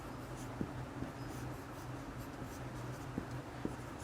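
Marker or chalk scratching across a board during an Arabic grammar lesson, a faint steady stroking with a few small taps, over low room hum and without talk.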